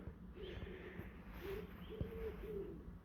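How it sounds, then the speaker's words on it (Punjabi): Faint sparrow chirps and short calls repeat against a quiet outdoor hiss in early morning in Germany, distant and sparse. "ਸਵੇਰ ਦਾ ਵੇਲਾ ਤੇ ਵੇਖੋ ਕਿਦਾਂ ਚਿੜੀਆਂ ਚੈੱਕਣ ਡੀਆਂ"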